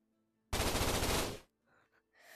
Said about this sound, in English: SMG time.